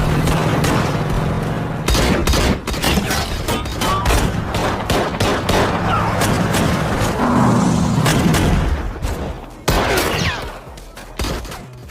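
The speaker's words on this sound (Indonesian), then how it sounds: "orang-orang dari White Wolf datang dan langsung memberondong mereka" Film gunfire as a gang sprays people with bullets, a dense loud fusillade of rapid automatic bursts and booming shots, close and continuous with brief pauses.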